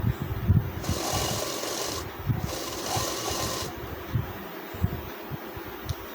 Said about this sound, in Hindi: और अब बैक साइड में सिलाई चलाएंगे।